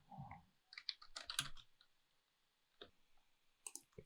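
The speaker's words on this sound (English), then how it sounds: "So I'm gonna start typing." Typing on a computer keyboard, with short bursts of close, quiet key clicks separated by brief pauses.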